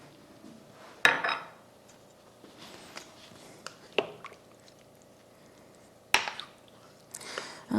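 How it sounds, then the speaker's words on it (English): A big spoon scraping and clanking against a small crock pot while stirring meatballs in pineapple juice, a few sharp knocks spaced apart over quiet wet stirring, with a brief word spoken. "And then I'll stir this up, and that will be good to go."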